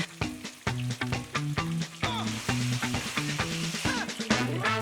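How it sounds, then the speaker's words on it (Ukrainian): Meat coated in egg and breadcrumbs fries in vegetable oil, a busy close crackle of sharp pops and sputters over a sizzling bed, loud and uneven throughout. "Обсмажуємо його з обох сторін на рослинній олії до рум'яної скоринки."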